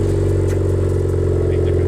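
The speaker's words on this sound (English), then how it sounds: "So I'm gonna give you some revs real quick" A loud, steady engine rumble from a 2023 Honda Civic Type R (FL5) with exhaust valves open, a deep, throaty tone, idling rough and constant without a clear rev rise.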